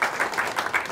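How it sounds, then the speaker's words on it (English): Brief burst of audience applause at a Nepal cleanup conference, welcoming a Nepal Red Cross Society representative; dense clapping lasting about a second, fairly loud and close. "I want to applaud her presence here"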